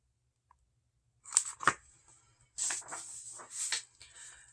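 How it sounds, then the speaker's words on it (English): Crinkly bursts of tissue paper rustling as parcels are unwrapped, several sharp crackles then a longer stretch of handling, close and fairly quiet with no talk. "there was a great rustling of tissue."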